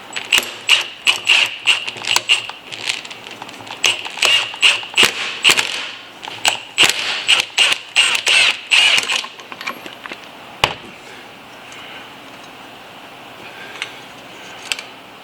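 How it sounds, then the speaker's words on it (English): A 14mm wrench turns on a bicycle suspension fork top cap, giving a quick run of close, sharp mechanical clicks and ratcheting creaks for about nine seconds, then a single snap and quiet. "I got a 14mm wrench. Go ahead and break the top cap loose from here."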